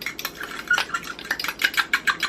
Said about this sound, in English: mix it super quick so we don't have lumps